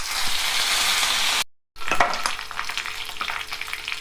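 Curry leaves crackle and sizzle loudly in hot tempering oil for a mint and sesame roti pachadi, a dense frying hiss that breaks off briefly and resumes with spattering pops.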